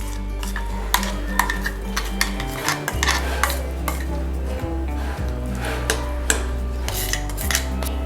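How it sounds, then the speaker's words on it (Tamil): A spoon clinks and scrapes repeatedly against a bowl as ground masala for a vanjaram fish fry is moved into another bowl, over a steady low background hum. "நம்ம மசாலா எல்லாத்தையுமே வேறு ஒரு பவுலில் ட்ரான்ஸ்ஃபர் பண்ணி எடுத்துட்டோம்"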